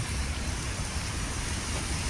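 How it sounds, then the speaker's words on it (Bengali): Heavy rain in Singapore pours down as a dense, steady hiss with a low rumble, loud and unbroken throughout. "সিঙ্গাপুরে আজ কয়েকটা দিন যাবৎ প্রচণ্ড বৃষ্টি হচ্ছে"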